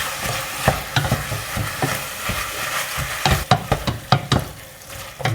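Chili con carne meat seasoned with salt, black pepper and chili being stirred in a frying pan, a steady sizzle under repeated scraping and clattering strokes of the spoon, several sharp knocks near the end.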